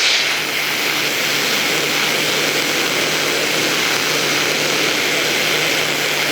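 Canned air sprayed upside down onto a thick steel padlock to freeze it, a loud steady hiss held unbroken throughout.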